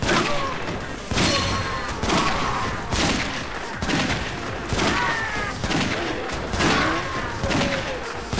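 Repeated sniper-rifle gunfire in the zombie-action video game Yakuza Of The End, with sharp shots landing roughly every second over a dense, loud backdrop of continuous in-game noise.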